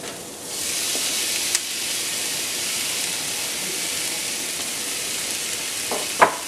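Tomatoes tipped into a pan of sautéed, lightly browned onions for a home-made chicken tikka masala, frying with a steady close sizzle, a couple of brief knocks of a utensil near the end.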